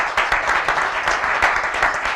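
Sustained crowd applause from an audience at a motocross event in Faè di Oderzo, a dense, steady wash of many hands clapping, fairly loud and close, with no talk.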